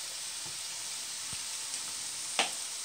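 Curry leaves fry in oil in a pan for a brinjal curry, giving a steady, even sizzle throughout with a couple of soft clicks, and no voices.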